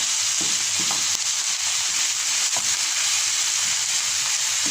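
Minced meat fries in a pan on a gas stove for béchamel pasta, giving a loud, steady sizzle with occasional soft scrapes and taps from a spoon breaking it apart.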